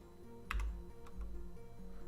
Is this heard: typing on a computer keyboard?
yes